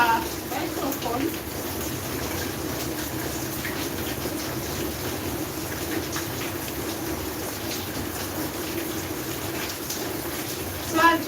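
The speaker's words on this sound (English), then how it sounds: "I'm trying to hold on a bit to see whether the rain will subside" Steady rain falls through the whole stretch as a dense, even hiss of water on surfaces, fairly close and constant, with no talk over it.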